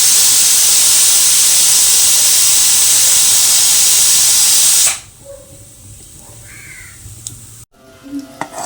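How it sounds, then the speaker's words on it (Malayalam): Kuruva rice cooks on a stove with a loud, steady hiss of steam that runs for about five seconds and then cuts off abruptly, leaving only faint scattered background sounds. "ചോറ് അടുപ്പത്ത് വെച്ചിട്ടുണ്ട്"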